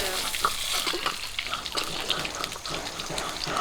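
Running water washes the head of a large desi river boal fish, a steady splashing, pattering flow close by that continues without a break.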